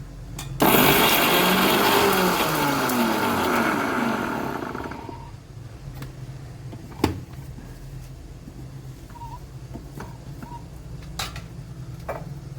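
A mixer grinder roars loudly for several seconds while grinding spices, then winds down and stops, leaving faint clicks and a low background hum.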